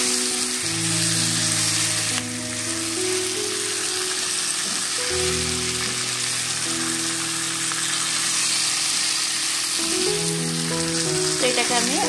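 Vegetables sauté in a pan for a light rui fish dish, giving a continuous loud, close sizzle with occasional stirring, over steady tonal background music.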